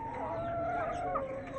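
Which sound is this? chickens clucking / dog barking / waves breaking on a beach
chickens clucking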